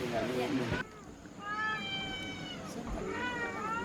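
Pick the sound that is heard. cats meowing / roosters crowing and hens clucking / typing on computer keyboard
cats meowing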